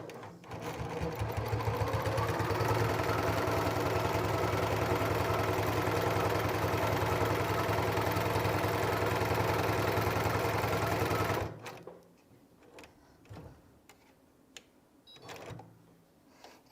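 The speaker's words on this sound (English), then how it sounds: "Now I'm going to sew around and put the batting on the rest of my fins." A sewing machine runs loud and close, stitching batting onto quilted fins in one long continuous burst for about eleven seconds, then stops, leaving faint handling noises.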